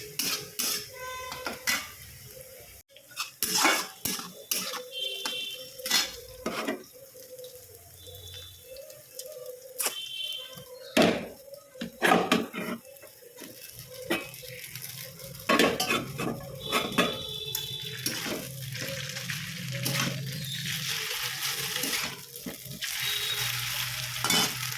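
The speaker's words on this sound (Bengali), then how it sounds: "এখানে চাউমিনের জন্যে গাজর আর ক্যাপসিকাম কেটে ভাজছি কড়াইতে" Carrot and capsicum frying in a home kitchen wok for chow mein, with a steady low sizzle under repeated sharp clinks and scrapes of a metal spatula against the pan, some faint bird chirps in the background.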